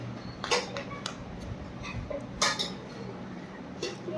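Golden fried onions are moved from a pan onto a plate, giving a few light clinks and scrapes of utensil on metal and dish, two sharper knocks standing out against a faint steady background hum.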